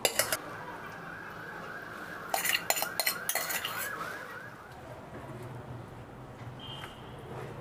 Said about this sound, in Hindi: जब तक ये पिघल ना जाए तब तक हम इसको मिलाते रहेंगे।